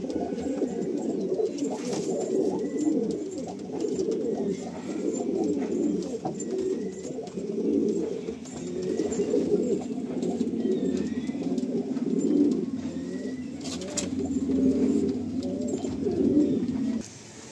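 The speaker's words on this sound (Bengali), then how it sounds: "পায়রাগুলো কতটা এগ্রেসিভ সেটা দেখলে তো বুঝতেই পারছো।" Pigeons in a breeding loft coo continuously in a dense, overlapping chorus, steady and close throughout with no talking.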